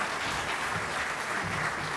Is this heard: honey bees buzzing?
no